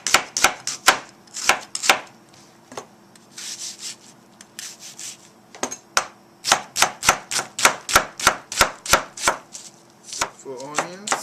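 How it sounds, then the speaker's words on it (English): Rapid knife chops through onions on a cutting board, sharp close taps in uneven bursts that settle into a steady quick rhythm, with a few softer scraping sounds between. "Now I chop the onions."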